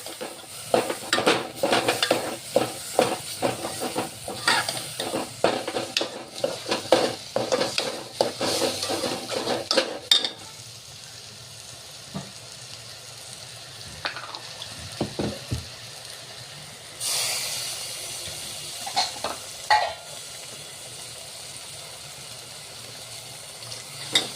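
Crushed pigeon peas with sambar masala being stirred in a pan, a busy stretch of scraping and clinking utensils with a soft sizzle underneath, then quieter with occasional spoon taps and a brief hiss.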